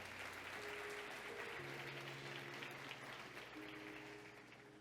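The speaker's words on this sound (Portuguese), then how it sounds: "Vamos dar salva de palmas para o casal aí" Faint, distant applause from a church congregation for a couple, a steady wash of clapping under a low hum and sustained tones, with a voice barely present.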